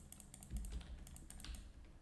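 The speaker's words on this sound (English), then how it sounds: "you're probably hearing all the clicking. Those are my basic attacks." Rapid mouse and keyboard clicking during basic attacks in the video game Action Taimanin, a close, irregular flurry of sharp clicks with a few heavier thumps, no voices.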